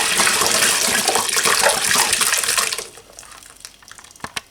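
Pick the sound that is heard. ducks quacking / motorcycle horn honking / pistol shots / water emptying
water emptying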